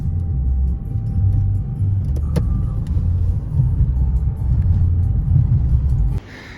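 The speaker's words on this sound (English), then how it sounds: "Got a rental car. We're gonna drive around the countryside today and hang out." A rental car drives through the English countryside around the Cotswolds, giving a steady low road rumble and engine drone from inside the cabin, with no talking, until the noise drops off abruptly near the end.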